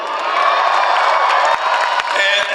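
A huge outdoor rally crowd in California cheers for Bernie Sanders, a loud, sustained roar of voices with whoops and shouts mixed in, close and continuous throughout.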